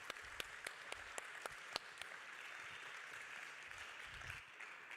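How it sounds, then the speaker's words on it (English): A conference audience applauds a speaker with a soft, continuous patter of clapping. Several louder individual claps stand out near the start, and the sound thins slightly toward the end. "Let's have a big applause for Laura."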